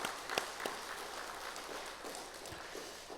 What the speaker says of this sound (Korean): 우리 하나님께 감사의 박수 한번 드리겠습니다.